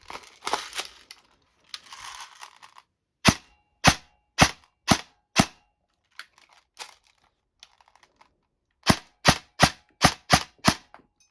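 A Specna Arms M4 HK416 airsoft rifle fed from a high-capacity magazine fires two quick strings of sharp, snappy cracks, four or five shots each, close and loud, separated by quiet handling rustles.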